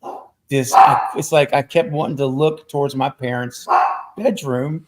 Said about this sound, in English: Sorry about my dogs, guys. Hope it's not too loud.